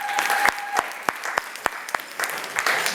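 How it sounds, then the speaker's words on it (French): Church congregation clapping together, a steady patter of hands with a few sharper claps standing out, fairly close and filling the room with no voices over it. "Acclamons pour le Seigneur."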